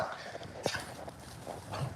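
Dogs playing, with soft whimpers and short snuffling vocal bursts, nearby and fairly quiet, along with some shuffling movement.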